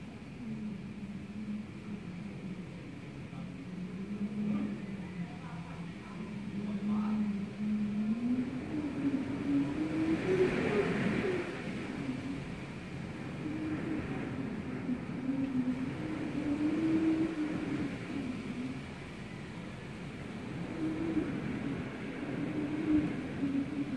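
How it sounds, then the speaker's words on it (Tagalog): Strong typhoon wind, under a Signal No. 2 storm in Bataan, roars from inside a house as a low, steady droning rumble with slow rising and falling swells that continue throughout. "Ugong pala ng hangin."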